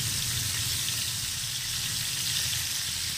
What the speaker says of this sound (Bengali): আর এই মাছটাকে আমি জাস্ট একটু হালকা ভেজে তুলে নেব।